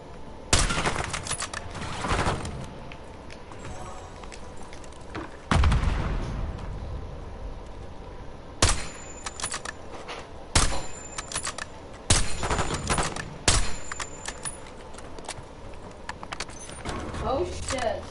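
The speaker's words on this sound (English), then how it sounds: "Throwing frag." A frag grenade and gunfire in the video game Warzone: sharp loud bursts and blasts recur every couple of seconds, with talk in between.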